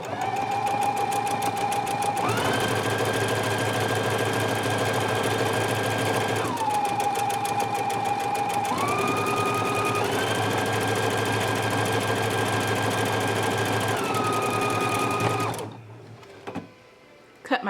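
Husqvarna Viking Epic 980Q sewing machine stitching a buttonhole, a steady fast whirring hum that shifts pitch several times as the stitch changes, loud and close, then stops abruptly near the end with a few small clicks.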